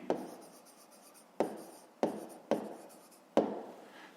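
Pen strokes scratching across paper while math answers are written out, a steady rubbing scrawl broken by five sharp starts spaced about a second apart, close and fairly quiet with no voices.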